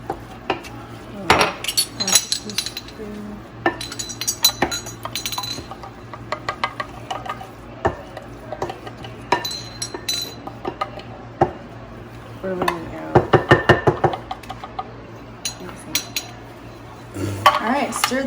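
Spanakopita filling is stirred in a bowl with a metal utensil, producing irregular close clinks and scrapes against the dish, with occasional louder knocks and a low hum in the background.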